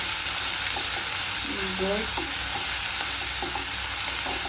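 Onion fries in oil with cinnamon, cardamom and bay leaves, a steady close sizzle broken by occasional stirring taps, while a voice speaks briefly over it.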